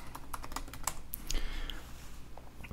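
Password typed on a computer keyboard during a sign-in, a quick series of light close key clicks, faint and steady for a few seconds.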